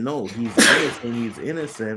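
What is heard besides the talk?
sneeze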